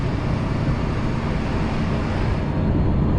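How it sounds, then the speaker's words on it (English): A truck's engine cooling fan runs steadily while the rig sits parked at idle, giving a loud, even broadband roar with no breaks and no voices. "The fan is just real annoying."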